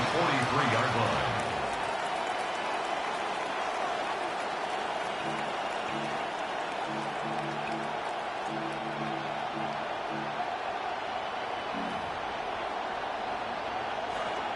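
A large stadium crowd at an American football game roars in a broad, continuous wash of noise, loud at first then settling beneath a commentator's talk.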